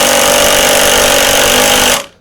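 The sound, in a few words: Festool TI15 impact driver driving 4-inch screws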